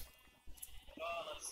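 Sheep in a video game let out a couple of short, nasal bleats in the second half, moderately close, after a quieter stretch with faint background sounds.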